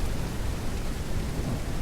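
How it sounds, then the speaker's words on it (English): In the farming video game Ranch Simulator, a thunderstorm brings steady heavy rain. The dense wash of rain noise is loud and even throughout, with a deep rumble underneath. "And now it's storming, so here we go again with the rain."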